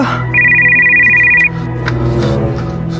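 A telephone ringtone plays a single loud, bright electronic tone lasting about a second over a steady indoor hum.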